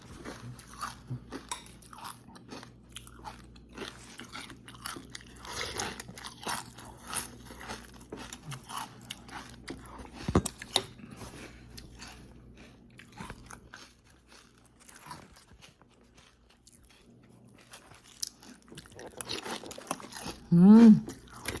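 Someone eats crunchy cereal with milk close to the mic, with repeated crisp bites and chewing crunches spread across the clip, brief pauses and a few soft mouth sounds.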